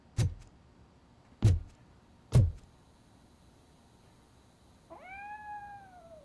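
Three sharp thuds come first, spaced about a second apart. After them a cat meows once from close by, a drawn-out falling cry over a low background hum, in the video game RoboCop: Rogue City.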